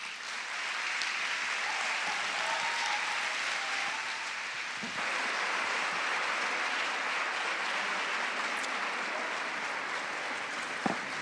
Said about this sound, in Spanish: Este aplauso es para ella, para Mercedes Miguel